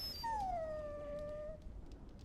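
A dog in the video game Dragon Age Origins gives a single long, drawn-out whimper that slides downward in pitch. It is clear and fairly close, then quiet ambient sound follows.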